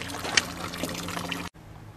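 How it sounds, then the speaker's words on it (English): A public water fountain in Garmisch-Partenkirchen, Bavaria, trickling and splashing close by for over a second before cutting off abruptly, leaving faint background hum. "another water fountain"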